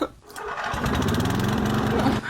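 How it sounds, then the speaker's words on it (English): A lawn mower engine runs steadily and loudly after a brief quiet start, a close, continuous motor drone with a buzzing edge. "Not the lawnmower. The cursed lawnmower."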